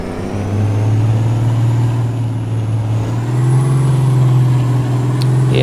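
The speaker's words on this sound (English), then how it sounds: "Just warming up the engine a little." An 18-wheeler truck engine idles and warms up in a driving video game, a loud steady low diesel drone holding close and constant, rising slightly in pitch partway through, with a faint air-brake-like hiss near the end.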